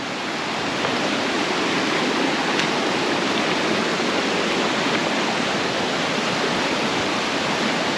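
A hidden Jamaican waterfall and its stream pour in a dense, continuous rushing roar, loud and close, holding steady without any break.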